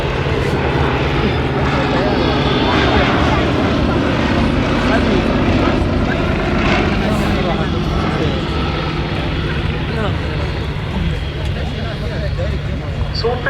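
Fairey Swordfish biplane flying at an air show, a loud steady propeller-engine drone holding throughout, with someone narrating over it on the public address.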